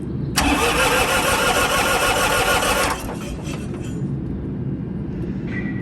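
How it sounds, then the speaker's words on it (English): An engine under restoration cranks over on its starter for about two and a half seconds, loud and close with a steady churning rhythm, then cuts off leaving a low rumbling hum. "Let's see if she'll crank over here."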